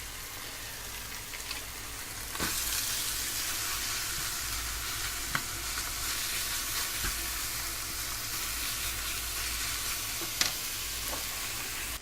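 Pork browning in a pan, giving a steady, close hiss and crackle of sizzling fat that swells after a couple of seconds and holds, with a few sharp pops.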